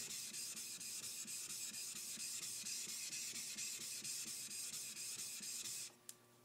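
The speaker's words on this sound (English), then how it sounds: "use this 1000 grit king synthetic stone to create a 1000 grit scratch pattern on this blade" A knife blade is stroked back and forth on a 1000 grit King synthetic whetstone, a steady run of evenly spaced rasping scrapes at close range with no talk, stopping abruptly near the end.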